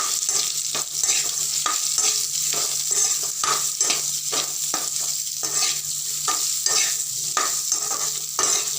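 Continuous sizzling in a hot pan with repeated scraping strokes of a spatula stirring raw mango pieces around, steady rhythm, close by.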